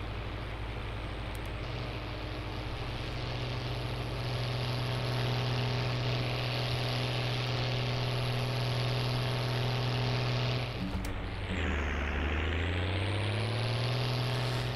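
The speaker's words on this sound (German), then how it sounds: "Deswegen fahre ich mit diesem Schlepper." A tractor in Landwirtschafts-Simulator 19, hauling a heavy tank, idles with a steady low droning hum; late on, the engine note sags sharply as if loaded, then climbs back up. No talking.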